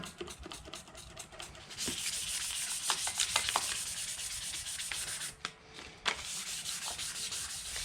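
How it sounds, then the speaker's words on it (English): Stainless steel exhaust headers are sanded by hand with a continuous, close, raspy rubbing that swells and pauses briefly in short strokes. "after I sand on here just for a few minutes"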